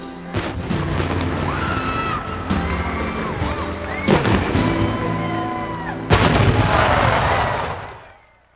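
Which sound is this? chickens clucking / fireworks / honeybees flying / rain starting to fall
fireworks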